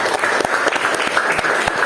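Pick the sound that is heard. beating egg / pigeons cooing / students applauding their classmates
students applauding their classmates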